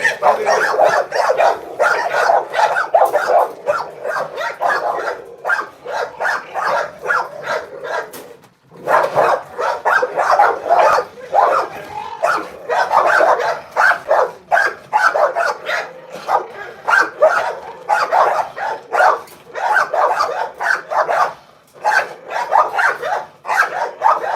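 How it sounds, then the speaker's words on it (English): A dog barks, yips and growls while eating its food, with dense, repeated vocalizations running almost continuously, loud and close, broken by a brief pause. "He growling while he eating."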